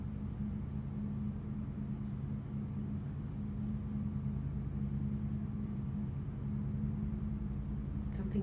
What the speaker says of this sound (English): Something just started running out here. It almost sounded like our generator.